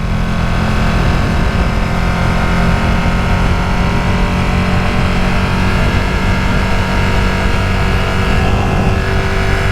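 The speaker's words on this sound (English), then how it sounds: "A lot of bikes out today." Motorcycles passing by outside on an open road make a loud, steady engine roar that continues for the whole stretch without a break. No one speaks over it.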